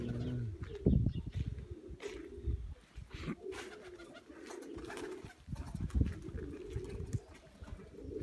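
Pigeons coo softly inside a dovecote, low repeated throaty calls rising and falling close by, with faint rustling and shuffling among the birds.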